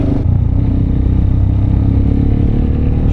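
A Mercedes SL car engine runs close and loud, a steady rumbling idle with a faint clattering texture and no speech.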